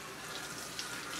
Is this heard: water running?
yes